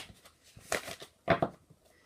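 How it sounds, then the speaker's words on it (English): Tarot cards shuffled by hand in a few quick riffling bursts, close and fairly quiet, with soft rustles between them and no voice. "I'm just gonna shuffle the cards here a bit"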